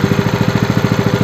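A new Lifan 8 hp KP230 single-cylinder engine with a 20 mm shaft runs steadily on its own, a close, loud, even chugging with regular rapid firing pulses and no voices.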